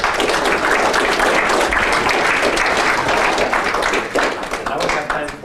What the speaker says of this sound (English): I think we owe a round of applause for Jevgeni.